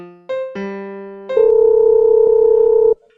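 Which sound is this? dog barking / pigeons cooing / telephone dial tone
telephone dial tone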